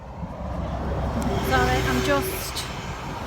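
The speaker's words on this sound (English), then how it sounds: "Sorry about the traffic noise." Traffic rumbles past on a busy road outdoors, a steady low roar with a brief passing vehicle tone in the middle, while someone speaks briefly over it.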